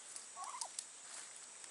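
Turkeys gobbling outdoors on a walk, a short warbling call at moderate distance over steady high-pitched insect or background hiss, with a few faint chirps around it.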